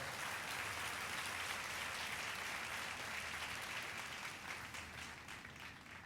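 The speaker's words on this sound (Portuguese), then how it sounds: "Dê um forte aplauso ao Senhor." A church congregation applauds during a Portuguese-language sermon by a bishop: dense, sustained clapping from many people, heard at a distance and fairly faint, thinning slightly toward the end.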